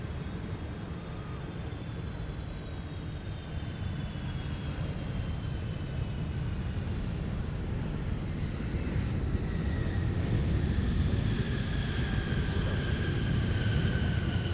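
Airliner taking off from runway 12 left at Minneapolis–St. Paul airport, a broad steady engine roar with a slowly shifting whine, heard at moderate distance and constant throughout.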